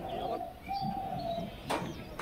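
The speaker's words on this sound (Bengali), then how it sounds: "কবুতরগুলো খুব সুস্থ সবল কবুতর, একের পর এক মারামারি করছে," Rajshahi Giribaz pigeons coo nearby in a continuous low murmur, with a brief sharper burst of movement among the birds and no speech.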